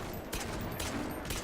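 Rapid bursts of gunshots in Garry's Mod, loud automatic fire in short volleys.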